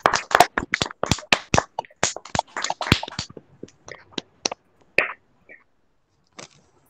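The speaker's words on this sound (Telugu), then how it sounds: "అందరూ చప్పట్లు కొట్టండి గట్టిగా" A church congregation claps together in a quick, irregular burst of hand claps that thins out into scattered, separate claps and a few last slaps before falling quiet.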